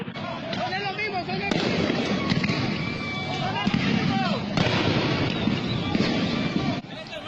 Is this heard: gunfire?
yes